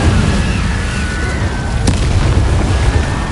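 Incendio fire spells cast in the game Hogwarts Legacy produce a loud, continuous rumbling roar with a sharp crack near the middle, heavy and close throughout.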